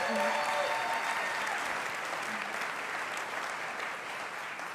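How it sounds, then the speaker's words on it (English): Steady, dense applause from a large audience at a youth TEDx talk after a saxophone performance, clapping continuously at a loud level throughout before tapering slightly toward the end. "I think they might need another round of applause after that one."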